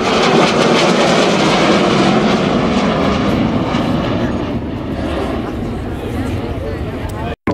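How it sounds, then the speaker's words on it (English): An Avro Vulcan bomber flies past at an air show, its loud, steady engine roar filling the whole stretch before cutting off abruptly at the end. "A truly historic aircraft, the people's aircraft, the mighty Vulcan."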